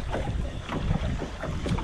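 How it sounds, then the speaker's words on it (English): Wind blowing over open water at night during bass fishing from a boat, a steady rushing gust buffeting the microphone with soft water movement, close and continuous with no talking. "In the wind."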